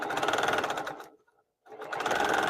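A sewing machine stitching grid quilting lines on a bag runs steadily and close, stops briefly for about half a second, then starts up again at the same steady hum.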